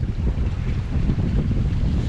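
Wind rushes steadily past the microphone on a sailboat reaching across a 12-knot breeze, with a constant broadband roar and water washing along the hull, loud and unbroken.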